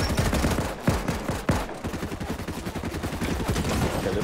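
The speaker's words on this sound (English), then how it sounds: "Some guy's shooting me through a hacking tree." Rapid bursts of automatic gunfire in the Fortnite video game, two sharp shots followed by a fast rattling stream of rounds, loud and close with no voices over it.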